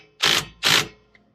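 An impact wrench tightens RV wheel bearing and brake parts in two short, loud hammering bursts, each about a fifth of a second, followed by a faint small click.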